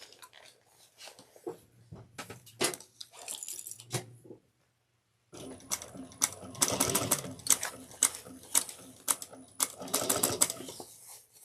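Sewing machine basting the edges of a fabric tote bag, heard in short stitching bursts separated by pauses and a silent gap, then a longer run of rapid machine clatter.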